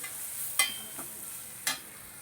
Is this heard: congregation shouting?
no